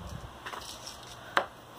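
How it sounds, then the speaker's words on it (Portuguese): Banana peels being chopped finely for homemade fertilizer, a few soft faint knocks followed by one sharper knife strike against a board, close but quiet, with no voices. "A gente vai picar a casca da banana"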